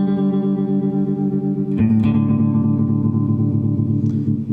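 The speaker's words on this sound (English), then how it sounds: "So very, very cool tremolo sounds." Guitar played through a Music Man 212 HD 130 combo amp with its tremolo effect on, sustained chords pulsing in a fast, even volume wobble, loud and close with no speech.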